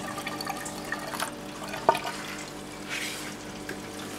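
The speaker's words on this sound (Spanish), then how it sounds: "ahí está rebalsando el agua hacia el rebosadero" Water from a Malawi cichlid aquarium spilling over into the overflow drain, a steady close trickle and gurgle with one brief splashy drip partway through.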